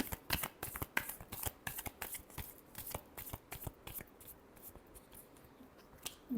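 Tarot cards being shuffled by hand close up, a steady run of crisp riffling slaps and flicks with no voices.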